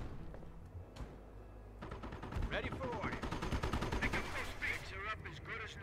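Gunfire in the World War II strategy game Company of Heroes during a Normandy battle around Montebourg, with dense bursts and rapid machine-gun fire building after a quieter start. Game voices and speech sound over the shooting.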